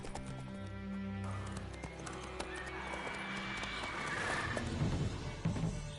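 Roach the horse trots in The Witcher 3 video game, steady hoof clip-clops mixed with an occasional whinny over game music, fairly quiet and without talk.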